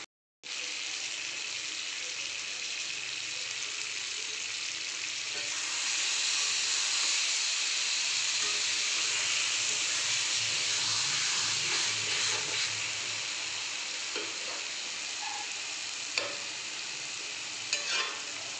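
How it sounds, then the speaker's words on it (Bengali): Eggplant fries in a pan over full flame with a steady, loud sizzle and hiss, occasional stirring scrapes and small pops breaking through the continuous crackle. "এবার ফুল আঁচ করে এটা ভেজে ভেজে নামিয়ে নেব।"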